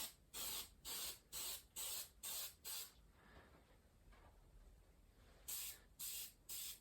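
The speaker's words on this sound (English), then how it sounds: "I was thinking about using spray mount, and hopefully it will stick enough, but not too much" A can of spray mount adhesive hisses in a quick series of short bursts, then pauses, then sprays a few more times while a scale model Ferrari badge is being made; the bursts are close and sharp, with no talking.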